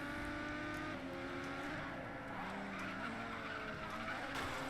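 Race car spinning out in Race Driver GRID at Istanbul, with a continuous loud engine roar and tire squeal filling the whole stretch, no voices present.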